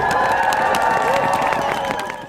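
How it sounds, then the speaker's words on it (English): Crowd cheering and applause at an Arctic Pride event, loud and steady with scattered shouts and a busy, festive din throughout, tapering slightly at the end. "So let's give them a round of applause"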